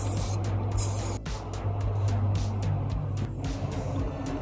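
Black primer sprays continuously from an aerosol can onto a wheel rim, a steady broadband hiss with brief pauses and spurts, over a low constant hum.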